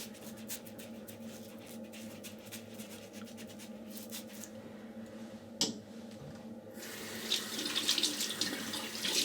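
Tap water runs steadily into a sink while a face is wetted before shaving, a close, even splashing stream with a single sharp knock midway and brighter splashing toward the end.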